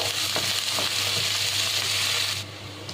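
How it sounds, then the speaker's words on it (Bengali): Steady, loud sizzling and crackling of chopped onions frying in hot oil until browned, continuous throughout with no voices, easing slightly near the end. "পেঁয়াজটা আমি ভালোভাবে ভেজে নেব।"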